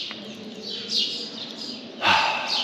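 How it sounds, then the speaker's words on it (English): Small birds chirp around the Temple of Edfu in Egypt, a few bright tweets and short calls with a louder burst near the end, over faint outdoor background. "you just got little birds around"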